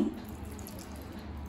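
A steady, soft trickle of water pouring into a paneer 65 mixture with food colour, continuous and close, with no talking.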